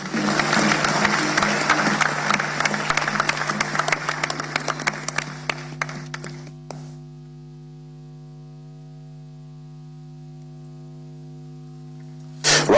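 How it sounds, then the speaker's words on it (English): Keynote audience applause in a hall fills the first six seconds and fades into a steady electrical mains hum, with a brief burst of clapping returning at the very end. "Round of applause again for our keynote speaker, Professor Atunuke Olusola Adebanji."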